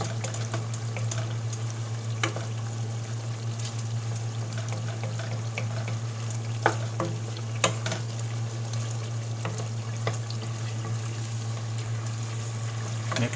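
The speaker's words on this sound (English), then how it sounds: "I'm gonna stir the whole thing." Algerian beef stew with chickpeas sizzles steadily in a pan while a spoon stirs it, giving a constant frying hiss with occasional soft scrapes and clicks close by, no voices.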